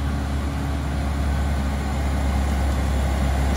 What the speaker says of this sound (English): that tractor, is it?